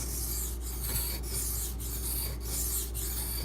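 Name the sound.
knife sharpening on a Beston whetstone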